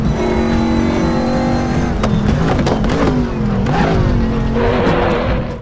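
A Chevrolet Dekon Monza race car at Zolder in RaceRoom roars loudly and continuously, engine pitch holding then dipping and rising through gear changes and slides.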